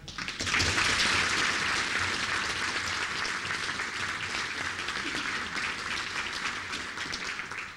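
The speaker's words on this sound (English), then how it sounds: "if you could just give them a round of applause" Audience applause for the judges and helpers at a community college vehicle extrication competition awards event, a steady, dense patter of many hands clapping that holds evenly for several seconds.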